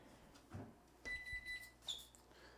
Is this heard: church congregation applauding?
no